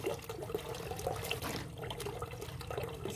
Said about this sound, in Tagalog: Ibabad muna yung puti.